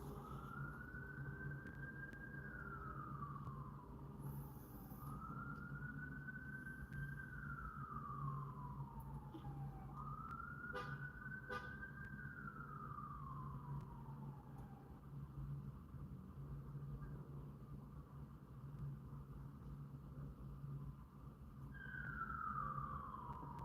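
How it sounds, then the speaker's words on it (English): Emergency sirens wail far off, rising and falling in slow repeated sweeps over a low, steady rumble of background noise. "And some sirens."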